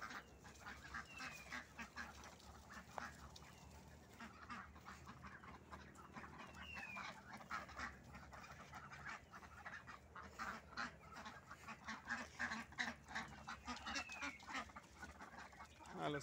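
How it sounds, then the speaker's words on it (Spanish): Ducks being herded into their pens on a small farm alongside chickens and quail, a busy flock of close and distant quacks, honks and squawks overlapping continuously with no one speaking. "los patos son muy fácil de pastorear"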